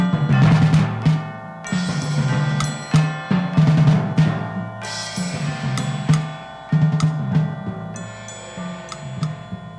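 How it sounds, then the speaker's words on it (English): An orchestral percussion climax in Hindemith's Symphonic Metamorphosis march: timpani pound beneath chimes that hammer out the four-note march tune, dong, ding, dong, dong, repeated loudly over full orchestra in bursts. "the chimes hammering out the first four notes of it"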